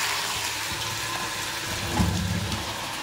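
Potatoes fry in a pan, giving a steady soft sizzle with a brief louder bubbling burst near the end, close by and without speech.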